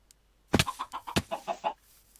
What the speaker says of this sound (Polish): Ty patrz, to jest kurczak, to jest mama kurczak.